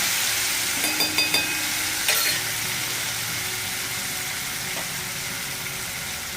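Green chili paste fries in hot tempering oil for a ridge gourd thecha, giving a loud, steady sizzle with a few quick clinks of a spoon near the start.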